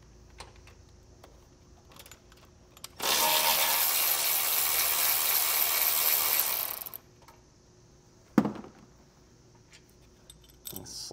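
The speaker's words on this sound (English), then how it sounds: "there's a bolt there. All right, and we'll pull that out" A ratchet with a 10 mm socket spins out a bolt during a battery charge line install on a towed vehicle: one dense, steady clicking run of about four seconds, then a single sharp knock in otherwise quiet surroundings.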